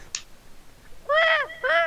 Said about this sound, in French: Mais c'est quoi ces oiseaux qui font plus de bruit qu'un...